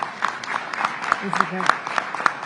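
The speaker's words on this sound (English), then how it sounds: "Let's give him a round of applause." Faint, scattered claps from a small audience at a New York governor's press briefing on the Jennings Creek fire, a loose patter heard under ongoing speech.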